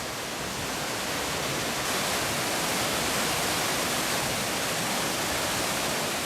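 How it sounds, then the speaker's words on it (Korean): Iguazu Falls in Argentina roars in a steady, dense wash of rushing water that stays loud and unbroken throughout, deep in the jungle. "밀림 속에 시원한 폭포 소리가 울려 퍼진다."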